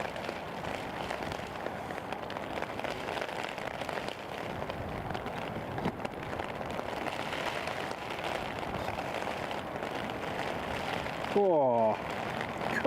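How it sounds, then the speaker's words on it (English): Heavy rain falling at Newcastle International Airport, a constant hissing downpour throughout with occasional voices underneath and a brief sharp rumble near the end. "It is properly raining now."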